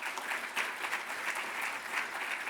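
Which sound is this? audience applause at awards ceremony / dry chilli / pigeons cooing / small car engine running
audience applause at awards ceremony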